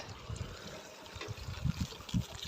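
Water trickling and splashing from a drinking water spot at a shrine in the Thar desert, soft irregular bursts close by with faint background noise.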